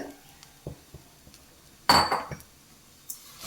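A spoon stirs grated coconut and powdered jaggery in ghee in a pan for modak, giving soft scattered taps and scrapes around one sharp metallic clatter, close and fairly quiet.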